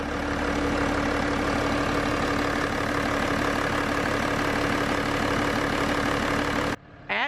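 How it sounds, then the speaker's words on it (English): A diesel engine idles in a BMW 335d with a new serpentine belt and harmonic balancer, a steady close rumble with a faint rhythmic whir, cutting off abruptly near the end. "So what you see spinning there is a brand new belt, a serpentine belt on a new Harmonic Balancer."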